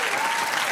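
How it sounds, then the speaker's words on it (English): Brief burst of dense studio audience applause on a late-night talk show, loud and continuous for under a second. "Why do people applaud that?"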